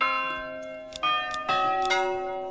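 Church bell in the medieval city-building game Manor Lords, with several clear ringing strikes that leave long, sustained metallic tones overlapping one another.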